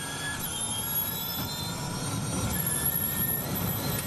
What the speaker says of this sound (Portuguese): o som da Fórmula E no Fox Sports